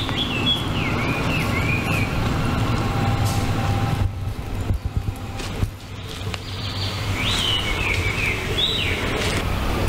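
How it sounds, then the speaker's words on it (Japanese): Small birds chirp in short, high phrases near the start and again toward the end, over a constant low rumble of outdoor noise in Ojiji Yotsuda green space woodland in Japan. "鳥のさえずり聞こえますでしょうか。"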